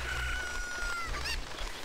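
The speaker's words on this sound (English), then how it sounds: "Come here, chicken." A chicken in Zelda: Ocarina of Time gives a short electronic cluck and squawk, faint and brief over a low background hum from the game.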